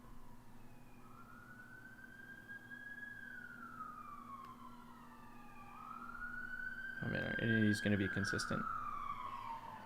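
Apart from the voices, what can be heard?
sirens in the background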